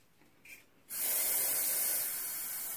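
Spray paint hisses from an aerosol can in a steady, loud burst that starts abruptly after a faint rustle and holds for about two seconds during a kids' mystery-box paint challenge.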